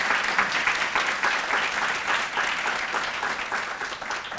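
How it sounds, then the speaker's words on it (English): Audience at a luncheon applauding, a dense, steady round of clapping from many hands filling the room, loud and sustained throughout. "give them some big round of applause"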